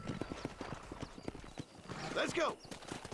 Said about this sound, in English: Sorry, my horse just kinda came in here all by itself.